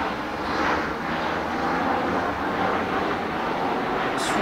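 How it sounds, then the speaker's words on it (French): An airplane flies overhead at about 3 km altitude near a countryside inn with a pool, producing a steady, broad, loud roar that holds throughout. No one speaks. "Depuis une semaine, c'est ça, hein, les avions. Ils vont à 3 km."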